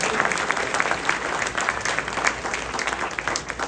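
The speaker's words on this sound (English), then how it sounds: "How about one more round of applause for the Sanibel" An audience applauds the Sanibel group at a community program, a dense, steady wash of clapping from many hands throughout, fairly loud with no break.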